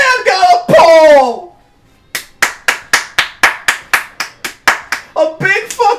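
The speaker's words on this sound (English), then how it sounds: "A big fucking round of applause!" Hands clap in a quick run of about a dozen sharp, evenly spaced claps after a short shouted voice, close and loud, with more shouting starting again at the end.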